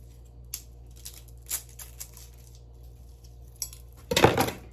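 A salted egg is cut and split in half in a kitchen, with a few faint scattered taps and clicks followed by a louder crackling crunch near the end.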